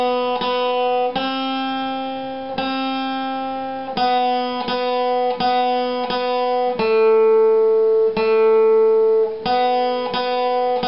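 Flatpicked acoustic guitar playing the bluegrass tune Bile Them Cabbage Down, a steady run of clear single notes with sustained tones, close and solo, no talking.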